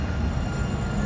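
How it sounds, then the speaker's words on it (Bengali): A metro train in Casablanca passes with a brief, low, steady rumble, fairly faint and without voices. "metro train"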